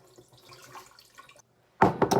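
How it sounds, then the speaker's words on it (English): Water poured into a shaker for a breakfast shake mix gives a short, close splashing burst after a moment of quiet handling noises. "Add some water"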